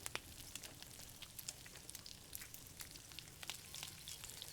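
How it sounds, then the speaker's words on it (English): Tomahawk steaks sear with rosemary on a grill, giving a faint, steady sizzle with scattered crackles and pops. No one speaks over it. "Part of the sear is how it sounds. And I can tell you, this is the way it's supposed to sound."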